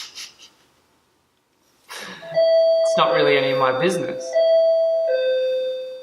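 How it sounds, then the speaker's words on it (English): A home doorbell rings with sustained two-tone chimes that ring on and fade, rising after a quiet pause, as a person talks over part of it. "that is the doorbell of someone dropping off a hydrogen bottle"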